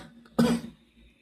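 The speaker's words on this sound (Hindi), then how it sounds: "सॉरी थोड़ा सा खांसी जा गया" A single short, dry cough from a man teaching ancient history, close to the microphone, with near silence before and after.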